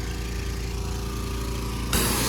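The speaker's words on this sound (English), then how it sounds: "My wife's mowing somewhere over there." Lawn mower running with a steady engine drone that stays continuous throughout, before a louder, broader hiss of nearby equipment sweeps in near the end.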